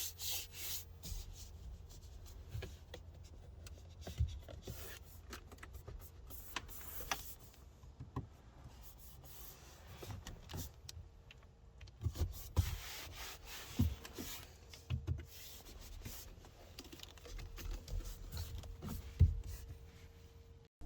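Hands rub and tap across the interior trim panels of a VW Arteon Shooting Brake to test fit and materials, giving soft, close scuffing and scraping with scattered light knocks and no talking.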